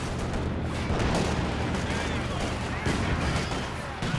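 Dense, loud machine-gun fire and the heavy impacts of a strafing run fill a Company of Heroes 2 match, continuous and rumbling with rapid overlapping shots throughout.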